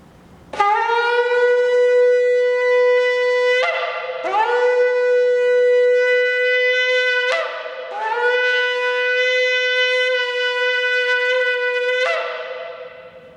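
Shofar made from an oryx antelope horn, with a wide mouth, blown in long sustained blasts: a steady brassy tone held for several seconds, broken by brief pitch-sliding attacks between notes, loud and close.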